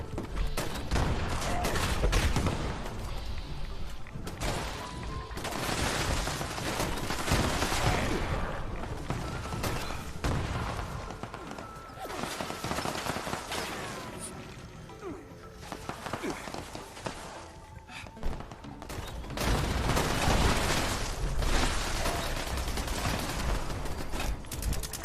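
Gunfire from defensive turrets in the video game Fallout 76, dense bursts of rapid shots and booms packed through the whole stretch, loud and continuous with brief lulls, game sounds layered over the shooting.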